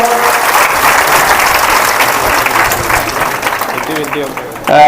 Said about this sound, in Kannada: ಒಂದ್ಸಲ ಜೋರಾಗಿ ಚಪ್ಪಾಳೆಯನ್ನು ತಟ್ಟು ನೋಡೋಣ